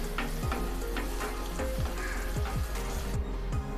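Chopped garlic and Kashmiri red chilli powder sautéing in hot oil as a tadka for dal palak, a loud, close, constant sizzle with repeated rhythmic stirring strokes throughout, no voices.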